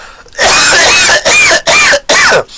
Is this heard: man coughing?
yes